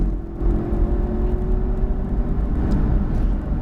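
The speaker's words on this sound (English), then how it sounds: "you're going to actually hear how quickly and early I can get back on the gas with the all-wheel drive." Porsche Panamera Turbo S E-Hybrid Sport Turismo with all-wheel drive accelerating out of a corner on a race track, a loud steady engine drone heard from inside the car, building gently without pause.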